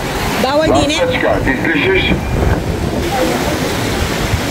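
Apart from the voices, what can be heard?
sea waves at the beach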